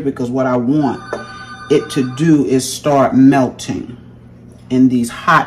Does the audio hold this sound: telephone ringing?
yes